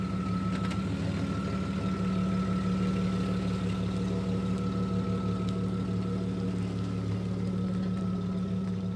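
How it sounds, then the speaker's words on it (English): A Jeep XJ on the road after Dana 30 outer axle tube seal work, its engine droning steadily with a low hum and road noise, continuous and fairly loud throughout with no talking. "there's nothing left to do but pop the wheels on and go for a test drive"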